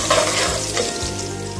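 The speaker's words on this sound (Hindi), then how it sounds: "फिर ऑयल डालेंगे। प्याज डाल देंगे, उसको फ्राई करते हैं।" Onions fry in oil in a pot for veg aloo matar pulao, a loud dense sizzle that carries steadily through the whole moment, close and alone.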